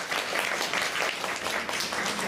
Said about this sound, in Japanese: みんな二人に拍手してくれ。